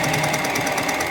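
A sewing machine runs steadily, stitching knit t-shirt fabric with a fast, even mechanical chatter at close range, with no talk.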